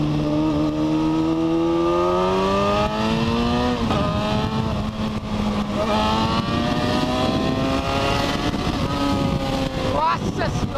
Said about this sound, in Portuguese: Vou dar uma acelerada nessa Hornet aqui.